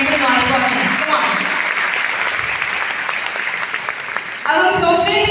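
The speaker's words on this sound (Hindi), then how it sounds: "जोरदार तालियां हो जाए everybody please make some noise for him." Audience at a college grand celebration applauding and cheering, a dense, sustained clapping roar from a large crowd, with a voice over a loudspeaker speaking on top and the applause swelling again near the end.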